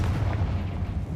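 A short, heavy booming blast of the Confringo explosive curse in the Hogwarts Legacy video game, deep and loud, alone without speech.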